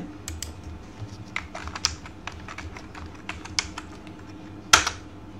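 Someone types a web address on a computer keyboard, a run of quick, uneven key clicks at close range, with a louder cluster of strikes near the end and no talking.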